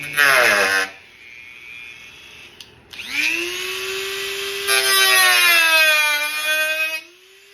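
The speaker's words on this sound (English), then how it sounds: "Turn my Dremel on" A Dremel rotary tool cuts into a part for a cup holder on a 2015-2023 Harley Road Glide, sounding as a high, tonal whine that spins up and holds in several loud, steady passes with short pauses between.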